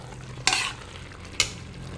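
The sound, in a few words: stirring soya chunks pulao in a pressure cooker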